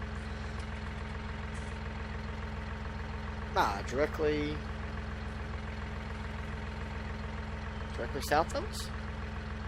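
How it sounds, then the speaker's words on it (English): Tractor engine idling steadily in a farming video game, a low continuous drone running throughout beneath a voice speaking in two short bursts. "As my tractor rolls away."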